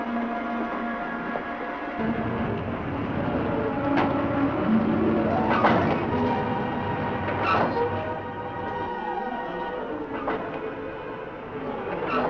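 A train rumbles steadily along the rails with a continuous loud roar, clattering wheels and occasional metallic squeals and clanks, with no voices over it.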